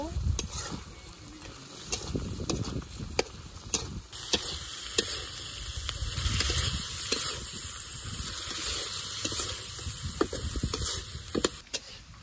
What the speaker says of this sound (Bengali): আমি তো লবণ দিয়ে মাছটা ভাজি করছি